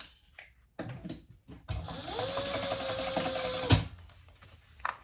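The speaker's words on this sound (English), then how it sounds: "I'm going to go ahead and sew this one" A sewing machine stitches a Betsy Bowler hat. A few short bursts and clicks come first, then a steady motor whir runs for nearly two seconds and stops with a clunk, close and clear.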